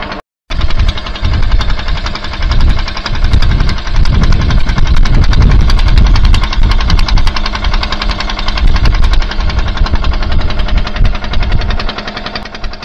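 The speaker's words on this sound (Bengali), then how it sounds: "আমাদের নৌকা ছেড়ে দিল।" A ferry boat's engine pulls away from Bagdanga ghat on a river crossing to Mousuni island, a loud, steady knocking diesel chug that runs nonstop after a brief gap at the start, with no voices.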